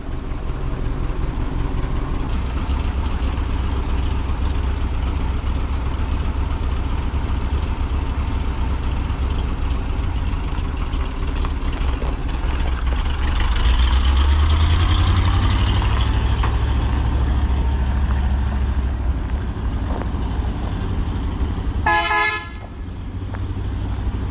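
A large truck engine rumbles steadily at close range, its low drone swelling midway, followed by a short horn toot near the end.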